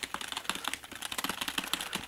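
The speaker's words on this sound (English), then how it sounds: "I've been using this IBM KB9910 rubber dome keyboard." Typing on an IBM KB9910 rubber dome keyboard: a quick, close run of soft, muffled key presses in an uneven rhythm, with no voices.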